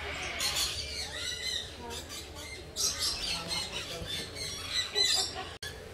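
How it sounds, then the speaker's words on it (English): Parrots and other birds in an outdoor aviary at a Pigeon Forge, Tennessee bird park, squawking and squealing in repeated sharp bursts at moderate distance, layered over a busy background of chatter. "look at all the different birds in there"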